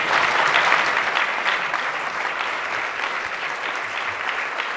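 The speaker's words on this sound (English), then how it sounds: "Please use both of your hands to clap." An audience at a formal address by Israel's Consul General in Toronto claps with both hands in sustained, dense applause that stays loud and fairly even for several seconds, then eases slightly toward the end.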